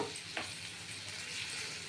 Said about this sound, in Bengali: একটু ভাজা ভাজা করে যেহেতু গুঁড়ো বেশি ভাজলে পুড়ে যাবে